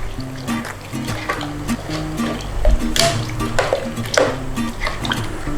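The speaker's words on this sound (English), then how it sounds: "So let's just give that a little stir through." A spoon stirs chicken biryani (Thai khao mok gai) in a pot, making soft scraping and wet shuffling sounds with a few louder knocks, under background music.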